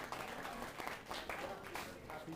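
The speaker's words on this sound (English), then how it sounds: "please give them a round of applause" An audience at a POLITICO interview event applauds a guest, a continuous, fairly soft wash of clapping from many hands throughout.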